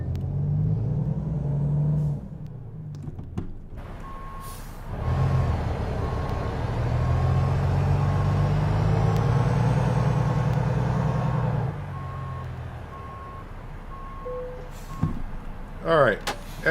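A truck in American Truck Simulator backs up with evenly spaced reversing beeps over a low diesel engine rumble that swells and eases, ending with a brief hiss and clatter.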